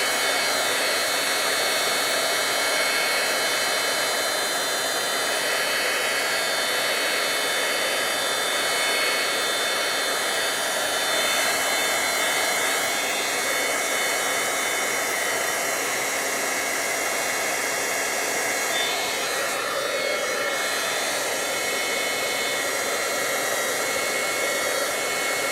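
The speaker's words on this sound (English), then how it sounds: "I could give it a little short blast with my" Heat gun blowing hot air during a craft project with a kids' board book, a steady loud whooshing roar that holds unbroken for the whole stretch, close by and alone without talk.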